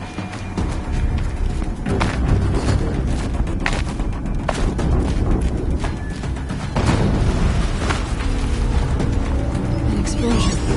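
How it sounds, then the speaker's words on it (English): A loud explosion erupts in the Horizon Zero Dawn level Maker's End amid a dense, continuous barrage of booming blasts and mechanical clatter. "An explosion."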